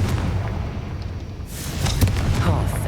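A Confringo fire spell explodes in Hogwarts Legacy, a sharp burst followed by a second crack amid a dense, roaring low rumble of ongoing combat.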